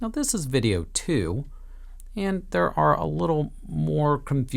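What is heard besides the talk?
No everyday noises stand out.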